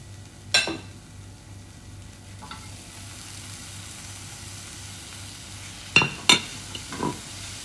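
Cabbage and egg stir-fried in a pan, a low steady sizzle with a few sharp scraping clinks of the spatula against the pan near the start and end.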